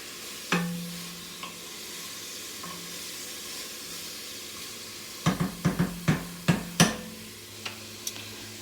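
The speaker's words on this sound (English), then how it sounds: "I like my onions and my garlic sauteed, but I don't like them burnt." Onions and garlic sautéing in a pan over turned-down heat: a faint steady sizzle beneath sharp stirring clacks of a utensil, with a cluster of quick scrapes and knocks near the end.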